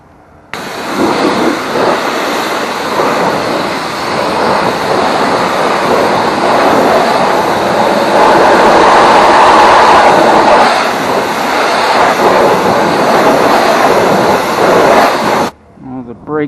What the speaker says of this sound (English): I'm going to get on this other side here and soak the tires down